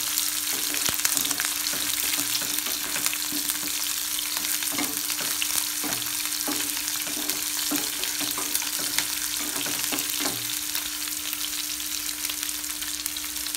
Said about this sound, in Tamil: ஆனியன் போட்டு கொஞ்சம் நல்லா வதக்கி விடணும்.